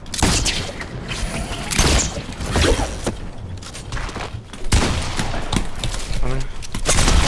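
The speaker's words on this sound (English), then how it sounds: "I don't know where I'm getting shots from." Sniper and other gunfire during a Fortnite Battle Royale match, with repeated loud shots and booms scattered through the clip under steady game noise and players talking.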